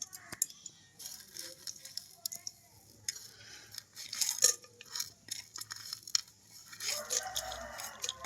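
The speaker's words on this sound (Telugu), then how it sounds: "బాగా తీయకపోయిందో నేను తాలింపు కరసలో తీసేసుకుంటున్నానండి" Tempering for coconut chutney being scooped and handled in a pan: sharp metallic scrapes and clinks of a utensil against cookware, close and intermittent, with a louder sizzling wash near the end.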